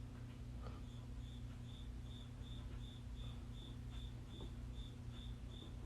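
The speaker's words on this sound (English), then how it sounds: "Can you guys hear the cricket?" A single cricket chirps in short, evenly spaced bursts, about a dozen in a row, faint and steady over a low background hum with no talking.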